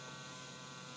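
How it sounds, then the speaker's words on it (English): A Dremel rotary tool runs steadily for a nail trim on a dog, a continuous high-pitched buzzing whir with no breaks, fairly quiet and heard alone. "there's a negative association with this Dremel sound"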